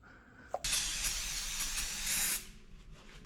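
Fresh brake fluid spraying and hissing as it flushes through the brake line of a 1982 Kawasaki KZ1000 that sat for 35 years, a loud steady rush lasting nearly two seconds after a sharp click, then cutting off.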